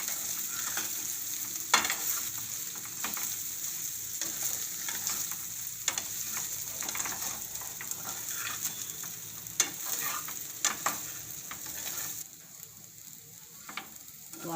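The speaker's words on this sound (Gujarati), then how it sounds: "હવે આપણે એમાં આ આપણા ઢોકળા છે એ નાખી દેવું અંદર. એકદમ સરસ ફેરવી લેવું." Drumstick leaf (saragva) dhokla pieces tossed in a hot tempering give a steady frying sizzle, with scattered scrapes and light knocks as they are stirred around the pan.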